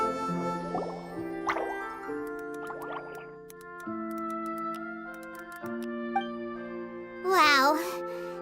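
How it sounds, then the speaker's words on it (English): In Genshin Impact, a water droplet makes a series of soft, pitched drips and plops spaced across the stretch, with a chiming game tone underneath and a bubbly flourish near the end. "it sounds like a water droplet is on the second floor"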